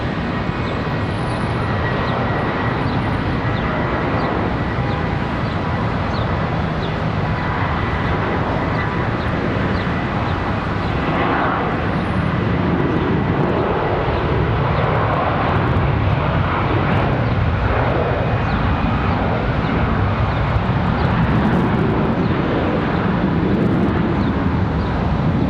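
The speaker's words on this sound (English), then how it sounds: "Another one up, getting ready to go. American Airlines 2533 off to Chicago, and another" An American Airlines Airbus A321-200 jet takes off at Charlotte Douglas International Airport, a loud continuous engine roar with broadband rumble that swells gradually and holds steady.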